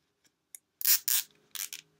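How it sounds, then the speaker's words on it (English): A zip tie ratchets tight around a bungee ball on a tent in a few quick, close rasping bursts, with tiny clicks before and short pauses between pulls. "And zip tie it on."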